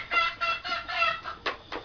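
A Thai fighting rooster clucks in a quick series of short, close calls, about six bursts in under two seconds, loud and clear against a quiet background.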